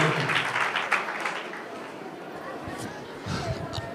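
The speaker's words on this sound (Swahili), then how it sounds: "Makofi tafadhali kwa TSC Director" An audience at a teachers training college appreciation ceremony claps for the TSC County Director, a burst of applause that fades after a couple of seconds as murmuring voices continue.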